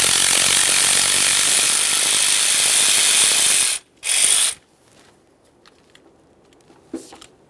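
A ratchet working an 8mm mounting nut off a stud on a 2015-2020 Ford F-150 3.5L V6 engine, loud continuous clicking for several seconds, a brief final burst, then quiet with a few light taps.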